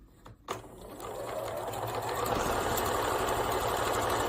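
A sewing machine stitches quilt blocks for a Blooming Nine Patch, starting after a few soft handling clicks and quickly settling into a steady close, fast needle hum and clatter.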